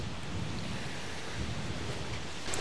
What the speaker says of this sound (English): Wind is strong off the right now.